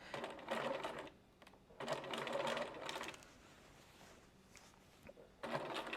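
A sewing machine stitches a narrow 1/8-inch seam around a grocery bag in bursts of steady whirring, a couple of seconds each, with short quiet pauses between runs.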